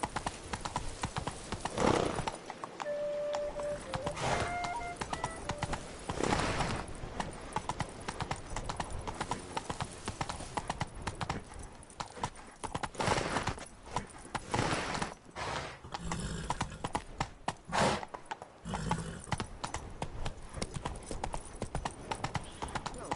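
A trotting horse gives a steady, close clip-clop of hooves throughout, with an occasional short whinny breaking through the rhythm.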